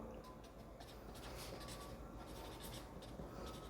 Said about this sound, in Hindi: तो ले जी, हम यहाँ पे लिखते हैं